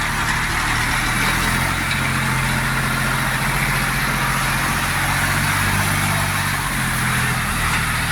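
A Jinma 244 LUX tractor engine idles close by in a loud, steady low rumble with a constant mechanical drone and no change in pace, heard on its own without talking.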